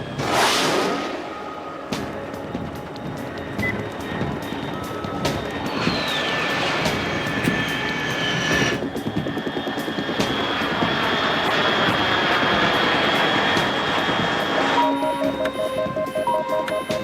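An unidentified aircraft flying at altitude in Metal Gear Solid 3: Snake Eater, a loud, sustained engine roar and whine that holds steady throughout with shifting tonal layers and no talking.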